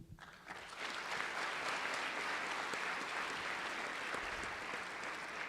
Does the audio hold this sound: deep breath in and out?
no